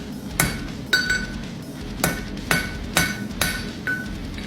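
A cold nail is struck with a hammer while being bent and straightened, eight sharp metallic ringing blows in an uneven rhythm, close and clear, with no voices.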